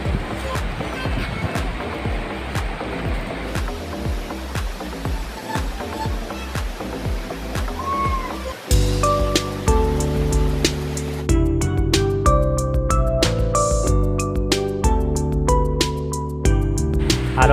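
Sathodi waterfall near Yellapur roars as a constant broad wash of rushing water, heard up close beneath loud music.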